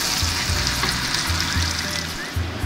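Onions fry gently in a pan for a goat trotter paya dish, a steady close sizzle with rhythmic low stirring thumps repeating every half second or so.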